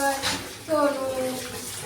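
Warm water splashes and pours over a German Shepherd during a bath, a close running-water wash with a tonal swirl, while people talk over it.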